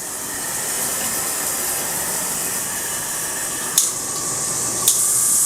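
A high pressure shower head on its pull-down handheld sprayer, giving a steady close hiss of spraying water with two brief sharp clicks toward the end.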